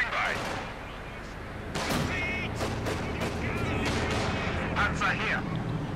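Battle sounds from the video game Company of Heroes 2, with sharp gunfire cracks and booming field gun blasts in irregular bursts, under a commentator's voice.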